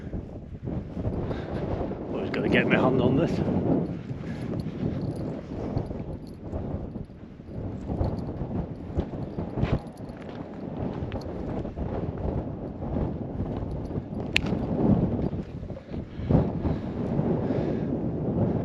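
Wind buffets the microphone in a steady, rough rumble with gusty swells while a person talks quietly beneath it, on a hilltop hiking trail at Pendle Hill.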